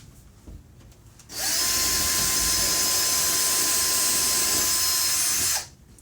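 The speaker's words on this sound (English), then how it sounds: "So let's go ahead and drill a 1/2 inch hole." A power drill bores a half-inch hole into a wall for shelf-track toggle bolts, a loud, steady high whine that starts abruptly, holds for about four seconds and then cuts off, close up with no talk.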